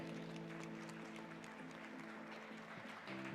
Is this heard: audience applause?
yes